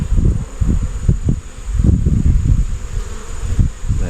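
Honey bees drone and buzz at an open hive in an apiary during an inspection, a dense, loud, steady hum pulsing slightly throughout, with no talking.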